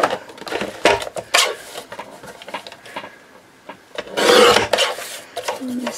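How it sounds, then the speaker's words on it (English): Paper trimmer slicing along the edge of a ring-bound Christmas journal page, giving short rasping, rubbing cuts in separate bursts with quieter handling between them, close by and with no talk. "I'm just going to get my trimmer and just straighten that edge off"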